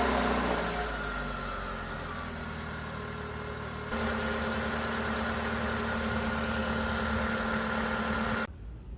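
A used Mitsubishi Outlander engine, fresh from an oil change, cranks and settles into a steady idle, its even mid-pitched hum running on close by until it cuts off near the end.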